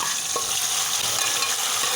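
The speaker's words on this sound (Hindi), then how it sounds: "अपने गोश्त को इसमें फ्राई करेंगे मीडियम आंच पे" Tender cooked beef frying in oil over a medium flame, a dense steady sizzle with faint stirring scrapes, close and continuous, no voices.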